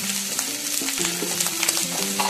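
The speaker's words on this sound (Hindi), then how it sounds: "भून रहा है, थोड़ा लाल करना है इसको।" Green potatoes fry in a pan for a spiced Indian potato dish, giving a steady, close sizzle with occasional soft stirring scrapes and no voices.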